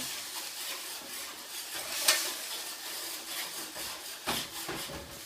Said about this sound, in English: Once it gets to this, then the whole pan is spitting.